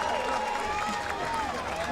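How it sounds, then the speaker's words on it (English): Boxing arena crowd at an Ecuadorian fighter's bout in Australia, a dense steady roar of cheering and applause sustained throughout at moderate distance with no clear breaks. "Man, Angulo getting the ovation."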